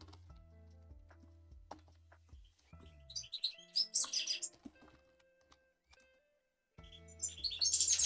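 A small bird chirps in short bright bursts, close and fairly clear, mixed with scattered clicks and light keyboard-like tapping in a quiet room.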